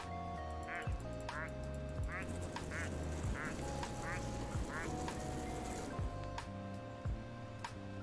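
A rapid series of squeaky rubber duck quacks in the Placid Plastic Duck Simulator video game, about eight evenly spaced calls over a gentle looping game melody, with low talk underneath.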